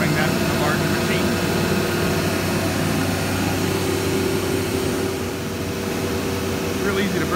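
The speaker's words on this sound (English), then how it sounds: "large Becker vacuum pump. Again, borrowing that from the larger machine." A large Becker vacuum pump, borrowed from a bigger machine, runs for a Techno HD-II tabletop CNC router, giving a steady, loud, continuous low drone and broadband hiss that holds unbroken throughout.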